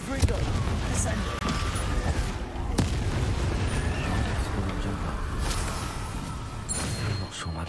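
The Confringo fire spell explodes during combat in the video game Hogwarts Legacy. Loud booms and bursts sit over dense, continuous battle noise, with voices mixed in.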